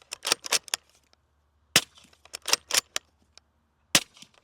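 Suppressed gunshots from a B&T SBR 300 fitted with a titanium can, fired as a rapid burst of sharp, muffled reports, then single spaced shots after pauses, fairly close and heard alone.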